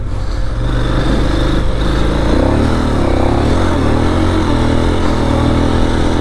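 A KTM 990 Adventure motorcycle rides off-road, its engine droning loudly and steadily throughout with slight rises in revs and no voices.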